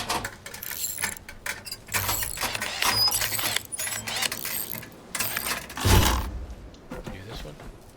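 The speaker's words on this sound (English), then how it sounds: "let's pull out the wrench" A wrench at work in The Last Caretaker video game gives a run of close, irregular metallic clanks, clicks and ratcheting rattles, with short bursts and a louder knock near the end.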